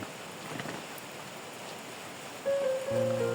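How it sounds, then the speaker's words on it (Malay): Steady rain in a village setting, a dense even hiss of falling drops throughout, with a sudden rise in level and a tonal hum or engine-like drone entering near the end. "So hujan ni geng"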